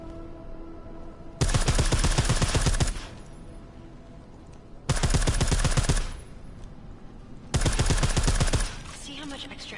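Three bursts of silenced automatic gunfire in Deus Ex: Mankind Divided, each a dense rattle of muffled shots lasting a second or two, split by quiet gaps and heard close and loud.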